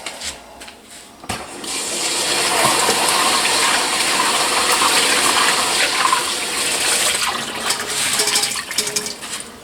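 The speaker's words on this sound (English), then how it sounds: "Let me rinse this basket out." Water gushing and splashing as a carburetor parts basket is rinsed out, a steady loud rush of running water sustained for most of the stretch after a brief start, with no talking.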